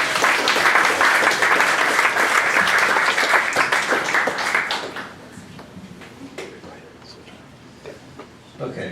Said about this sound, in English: How about instead we just give them a round of applause?